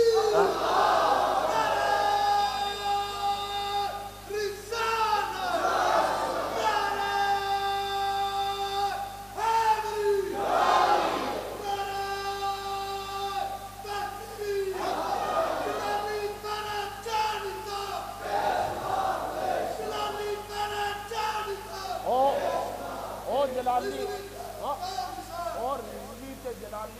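Crowd chanting religious slogans at a Milad gathering for the Prophet's birth, a mass of voices calling in steady waves that rise and fall across the whole stretch, loud and reverberant, with a leader's voice heard among them.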